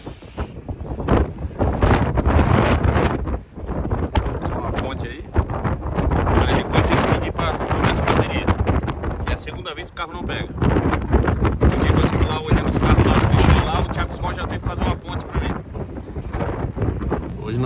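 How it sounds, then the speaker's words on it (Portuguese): Strong wind on a street buffets the microphone with loud, continuous rumbling gusts that roar and dip unevenly, nearly constant throughout. "A rua tá um vento que chega a empurrar a gente."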